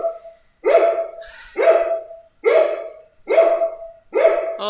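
A dog barks in five evenly spaced, loud, clear woofs, each short and punchy with a brief trailing tone, separated by near silence.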